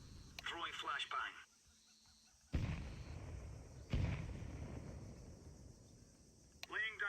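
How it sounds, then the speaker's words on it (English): Counter-Strike flashbang grenade going off in a round of play: two sharp broadband bursts roughly a second apart, each trailing into a hissing ringing decay, with brief radio chatter crackles before and after. "Throwing flashbang"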